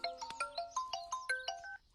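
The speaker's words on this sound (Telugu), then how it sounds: "ఇదిగో వాడే ఫోన్ చేస్తున్నాడు నువ్వే లిఫ్ట్ చేయి" A phone ringtone plays a quick, bright melody of short electronic notes, heard clearly on its own for under two seconds.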